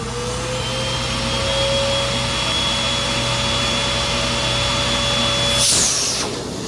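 A Sandia Super Raven backpack vacuum cleaner runs under suction with a steady, loud motor whine and airy rush. Near the end there is a brief burst of hissing as the airflow changes.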